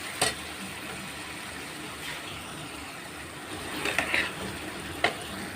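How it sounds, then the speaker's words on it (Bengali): Spiced masala and fried potatoes sauté over a low flame in a covered pan for a katla fish head dish, giving a steady, even sizzling hiss with a few soft clicks near the end. "এবার হালকা ফ্লেমে ঢাকা চাপা দিয়ে আমি কষিয়ে নেব।"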